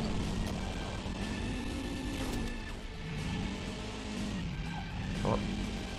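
A car brakes and skids in the Hot Wheels video game, with a steady engine drone and tire scrubbing running throughout, plus a brief squeal near the end, all at moderate loudness.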